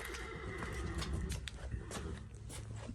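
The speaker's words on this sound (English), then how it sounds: "You could hear our horse Rocky wondering what in the heck is going on" A horse whinnies near a house porch, giving a few strong, rough neighs over steady background noise with no talking.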